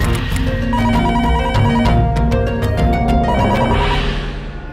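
A telephone rings loudly and steadily, its electronic bell tones repeating in a continuous patterned ringtone up close.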